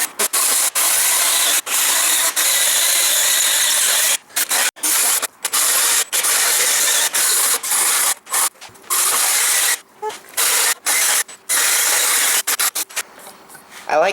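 Cutting six instrument holes in a Cessna 172 flight simulator panel: a loud, harsh, steady hiss of cutting that runs almost without pause, broken by brief stops and choppy gaps.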